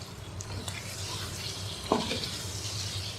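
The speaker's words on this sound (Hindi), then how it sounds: "अब इसके अंदर मैं डालती हूँ ये पुदीना और सब्ज़ धनिया, सब्ज़ मिर्चें और लीमू। 1 मिनट इसको फ्राई कर लेंगे।" Mint, coriander, green chillies and lemon are fried in biryani masala, making a soft steady sizzle with occasional utensil knocks and scrapes against the pot.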